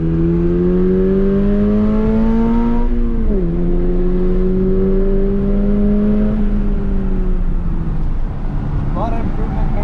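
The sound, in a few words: Toyota GR86 engine revving, high-pitched exhaust note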